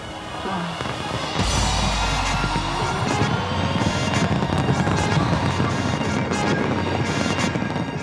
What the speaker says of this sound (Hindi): स्काई टावर पर आतिशबाजी का शानदार मुजाहरा